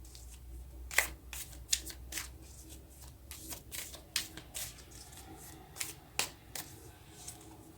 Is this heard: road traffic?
no